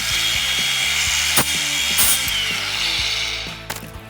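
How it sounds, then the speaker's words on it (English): Angle grinder fitted with a sanding wheel lightly knocking down sharp metal edges on a rooftop air conditioner opening, a steady mechanical whir with short scraping touches and a few louder bursts, fading near the end. "So just a sanding wheel on an angle grinder and kind of just very lightly touching all of these edges"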